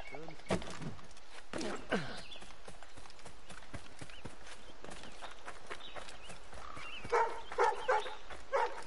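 A dog barks a few times in the video game Assassin's Creed Rogue, with sharp bursts near the start and a cluster near the end over steady game ambience and footsteps.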